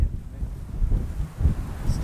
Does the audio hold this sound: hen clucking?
no